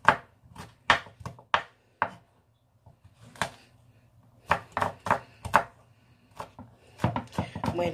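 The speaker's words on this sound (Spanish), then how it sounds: "También vamos a picar cuatro ajos." Garlic cloves being chopped with a knife on a board for cucumber kimchi, a series of crisp, close knife taps in uneven clusters with short pauses between, loud and dry.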